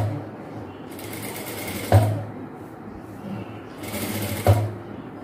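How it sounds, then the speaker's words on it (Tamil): A sewing machine runs a second line of stitching on a chudidhar in two short whirring bursts, each ending in a distinct clunk, over a low hum of background noise. "இப்போ செகண்ட் ஸ்டிச்சாக நம்ம போட்டுட்டோம்"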